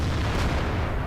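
In World of Tanks, a tank gun shot strikes the flat top of an IS-3 turret. It lands as a single dense, low booming blast that fills the whole short moment, loud and close, with no talk.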